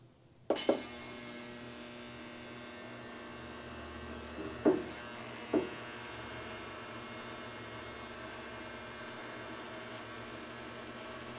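An ultrasonic cleaner switches on with a sharp click and settles into a steady, even electric hum and hiss, cleaning a deer skull soaking in its heated bath, with a couple of faint knocks partway through.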